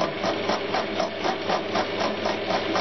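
A metal lathe running a carbide facing cutter gives a steady, close, whirring hum with a faint rhythmic pulse, constant and unbroken, with no voices.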